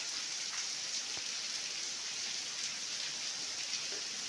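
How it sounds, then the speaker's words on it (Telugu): Heavy rain pours steadily in a village near a Shiva temple, a dense continuous hiss of drops striking surfaces with no break, loud and close throughout. "చాలా చక్కగా వర్షం పడుతుంది"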